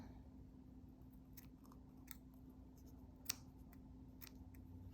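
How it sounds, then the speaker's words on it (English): Faint scissors snip a few times in short, quiet crisp clicks over a low steady hum. "Let me just snip this little."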